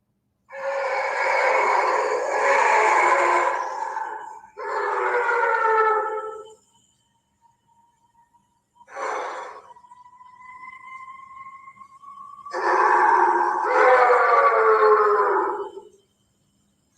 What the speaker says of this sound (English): You heard that that one howl in the back.